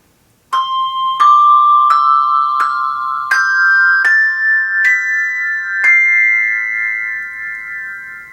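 A tuned metal bar percussion instrument struck with blue yarn mallets, eight clear ringing notes climbing one by one at an even pace, each with a soft attack and a long sustained tone that rings on after the last strike.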